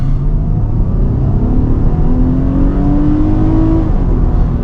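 A Nissan Pathfinder Rock Creek Edition engine drones loudly and climbs steadily in pitch under hard acceleration, a rising rumble heard from inside with no talk.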